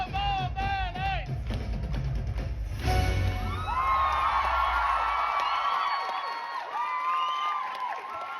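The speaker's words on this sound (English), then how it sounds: "I can't even hear myself after all that screaming and shouting" A packed West End theatre audience at a SIX musical singalong screams, cheers and whoops loudly and continuously, a dense crowd roar with high shrieks rising over it throughout.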